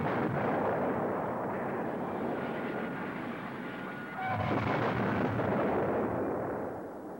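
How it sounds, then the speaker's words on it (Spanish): A nuclear explosion's destructive shock wave as a dense, continuous roaring rumble, loud and sustained, with a deeper surge partway through before slowly tapering off. "Después de la explosión, las ondas de choque destruyen lo que queda en pie."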